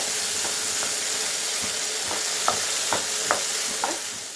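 Mustard chutney stirred in a pan with popped mustard seeds, a steady frying hiss under soft scraping strokes and a few brighter spoon taps near the end, no voices.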